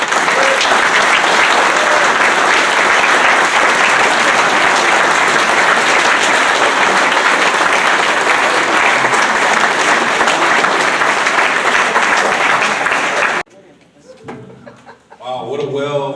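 Loud, dense applause fills the hall for a Hall of Fame inductee and holds steady for about thirteen seconds, then stops abruptly as a voice begins speaking.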